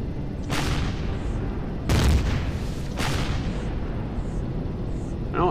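Drone turret fire aimed at the player in the survival game Empyrion, heard as three sharp broadband bursts spaced about a second apart over a steady rumbling game background.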